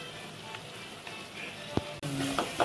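Turmeric, salt, garam masala and chicken masala stirred into a sizzling pan for a simple chicken curry, a soft steady frying hiss with a couple of sharp scrapes of the spoon, fairly quiet and close.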